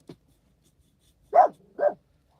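A female dog barks twice in quick succession, close and clear in a quiet indoor room, preceded by a tiny faint click.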